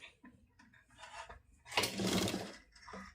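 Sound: sewing machine stitching a nighty

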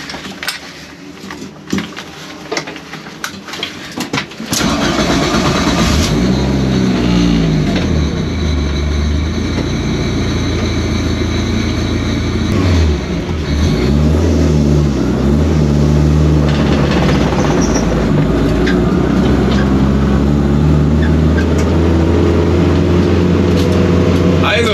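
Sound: Abarth car accelerating on Bilster Berg race track

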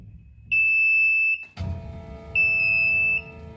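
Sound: OMtech laser cutter door alarm beeping

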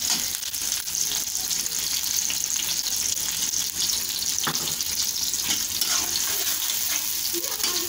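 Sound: onions cooking in a pan for chicken pasta

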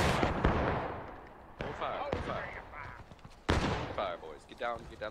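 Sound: musket volley fire in a Civil War video game

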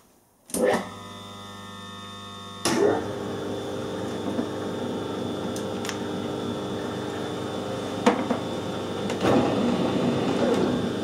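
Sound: lathe running in a low gear

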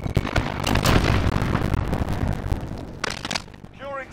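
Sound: grenade explosion in the video game Call of Duty: Modern Warfare

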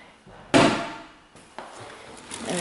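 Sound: kitchen drawers being opened and closed

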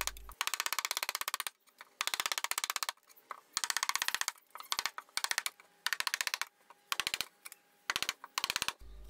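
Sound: mallet and chisel removing waste from pallet wood trench

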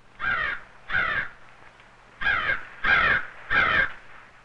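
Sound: crow calling loudly

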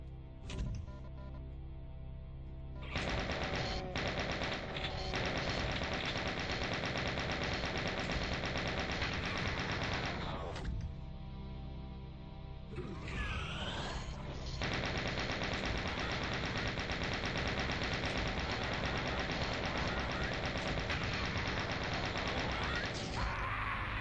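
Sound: machine gun fire in the video game Doom II

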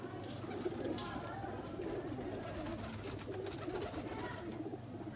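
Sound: highflyer breeder pigeons cooing

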